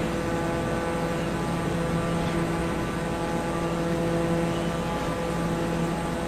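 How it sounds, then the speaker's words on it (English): An airplane passes close below the listener, its steady droning engine hum lasting throughout alongside constant background noise, with no talking. "There's a plane right below me."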